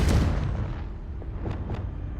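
A Confringo fire spell blasts in the Hogwarts Legacy video game: a heavy, booming burst right at the start that rumbles and fades over a couple of seconds, with a few faint crackles trailing after.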